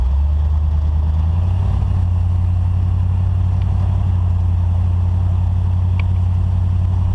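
A 1969 Chevelle big block cruises on the highway, its deep engine droning steadily and loudly throughout, with a constant low rumble and road noise and no accelerating.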